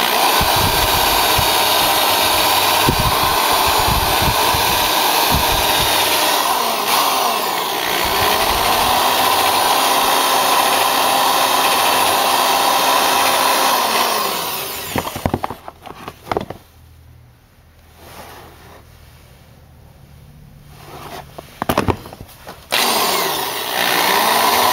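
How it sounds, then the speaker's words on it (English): A loud, continuous whirring of a sanding drill bit grinding a Kawasaki ZZR600 motorcycle seat for a long stretch, then cutting out, followed by quieter pauses and a brief restart. "This little sanding drill bit should be really smooth and easy to use."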